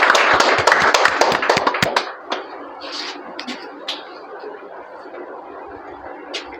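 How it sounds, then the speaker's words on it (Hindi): At an award ceremony, a burst of close, loud hand claps from a small audience fades after about two seconds into scattered single claps and taps over a quiet room. "एक बार जोरदार तालियां।"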